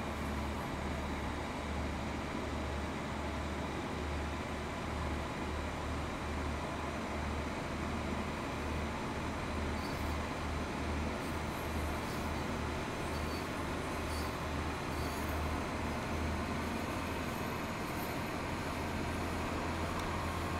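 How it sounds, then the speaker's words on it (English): Diesel train engine in Train Sim World 2 on the West Cornwall route near St Ives, a constant low throbbing drone with steady rolling noise and no talk throughout. "Definitely a proper sounding train. We do like a bit of diesel."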